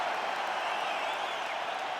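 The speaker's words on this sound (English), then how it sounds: "Stand and cheer, ladies and gentlemen." Arena crowd at a UFC event in New Orleans cheering and applauding after a five-round fight, a dense, steady roar of cheers and clapping filling the space without a break.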